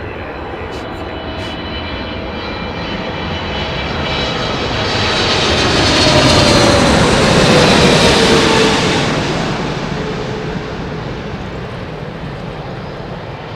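A Boeing 777 airliner at Heathrow Airport roars past, its loud, broad jet engine rumble swelling to a peak midway and then easing off as it moves away, with no talk over it.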